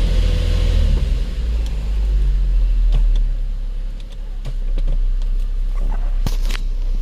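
A 2007 Lincoln MKZ with a 3.5L engine, suspected misfire on cylinder 2 and a bad motor mount, driving with a steady low engine rumble and road noise throughout, a few scattered clicks and taps near the cabin.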